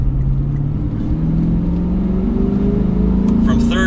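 A 2022 Lexus IS 500 F Sport Launch Edition sedan accelerating through the gears, its exhaust giving a steady, moderately loud engine drone that climbs in pitch, heard from inside the cabin with a voice talking over it.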